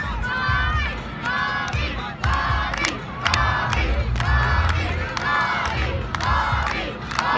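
A crowd at a charity wrestling show roars and cheers loudly and continuously, with repeated shouted chants and whoops rising in bursts, while a commentator talks over the noise.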